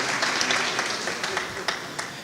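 Crowd applause at a political speech in Tame, Arauca, thinning clapping with a few distinct louder claps standing out from a continuous wash, fading toward the end.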